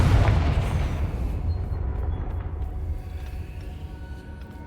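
A Confringo fire spell explodes in the video game Hogwarts Legacy, giving one heavy booming blast that rolls out into a long, fading rumble.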